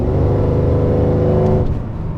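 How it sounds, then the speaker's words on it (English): Holden HSV GTS-R Maloo ute driving, its engine a loud, steady low drone carrying a layered supercharger whine that eases off slightly near the end. "you can just hear the supercharger."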